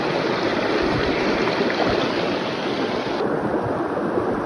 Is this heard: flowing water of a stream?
yes